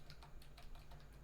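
Quiet, steady tapping of keys on a computer keyboard, the keystrokes coming in a quick, uneven rhythm over a low background hum, with no voices.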